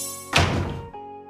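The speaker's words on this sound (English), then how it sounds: "The door made a big bang." Door banging shut, one sharp loud thunk that rings out for about half a second over a steady background tone.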